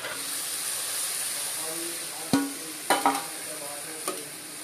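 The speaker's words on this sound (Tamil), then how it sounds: "வெங்காயம் இந்த அளவு வதங்கினதுக்கப்புறம் தக்காளி சேர்த்துக்கணும்." Onions and tomato sautéing in a pan for Indian egg gravy, a steady frying hiss with a few sharp knocks of a spoon stirring against the pan.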